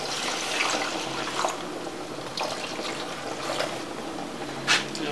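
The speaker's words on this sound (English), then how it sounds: "I will add more water, put small water again so that the plate no go burn." Water poured into a pot of moimoi on the boil gives a faint, quiet trickle and splash with a few brief louder spurts, and no talking.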